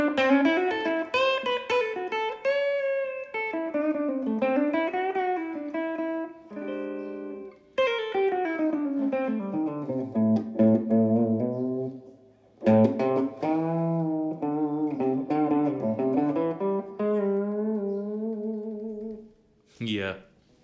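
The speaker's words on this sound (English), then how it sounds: "it's the same tone with some reverb" A clean electric guitar through a Laney CUB Super 12 tube combo amp plays melodic lines and chords with a warm amplified tone and a reverb tail ringing after notes.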